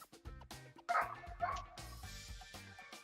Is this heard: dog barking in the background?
yes